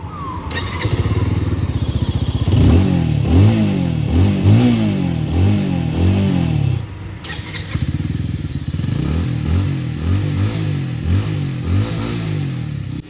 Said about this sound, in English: Now let's take a look at the exhaust note of this bike.